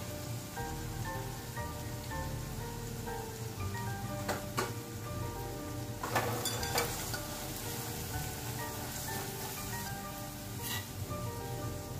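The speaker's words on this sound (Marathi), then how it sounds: "कांदा लाल होईपर्यंत आपण हे थोडंसं परतून घेऊ." Chopped onion sautés in hot oil in a pan, a steady close crackling sizzle that runs throughout, with a few louder pops and stirring scrapes breaking through midway.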